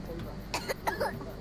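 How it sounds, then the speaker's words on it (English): A baby character in The Walking Dead Telltale video game gives a short pair of soft, close coughs over a faint game background. "Oh, we got that baby cough."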